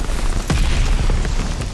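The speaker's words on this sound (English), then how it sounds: "Mortars incoming" Mortar rounds explode during a Call of Duty Vanguard multiplayer match, a loud, rumbling boom with a sharp burst near the middle, set against constant battle noise.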